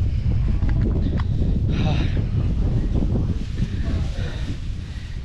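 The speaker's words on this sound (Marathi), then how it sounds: "एवढी हवा सुटली आहे ना, आम्हाला तोल सावरत नाही एवढी हवा इकडे" Strong wind buffets the microphone atop a steep hill fort near Igatpur, a steady low roar with gusts that ease slightly toward the end, and voices speaking faintly underneath.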